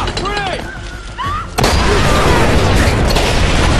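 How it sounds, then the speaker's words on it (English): A frag grenade goes off in the video game Splinter Cell Conviction, a sudden loud boom that cuts in and leaves a sustained roaring noise, following a stretch of gameplay sounds and voices. "Frag grenade! Frag grenade for you too!"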